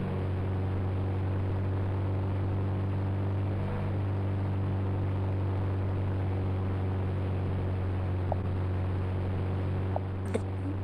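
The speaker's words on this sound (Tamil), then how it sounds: "நம்ம கேமில் மிலிட்ரி ஹெலிகாப்டர்லாம் விட்ருக்காங்க காய்ஸ்." A military helicopter drones steadily in an Indian bike video game, a continuous low humming rotor tone with a few faint clicks near the end.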